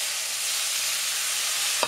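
Minced meat with onions sizzles loudly and evenly in a pan, a dense close hiss with a faint stirring scrape and a small knock right at the end; no voices.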